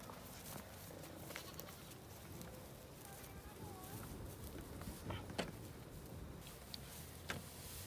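Miniature goats and sheep bleat intermittently in a paddock, the calls faint to moderate and scattered among shuffling and farm noise, with people talking in the background.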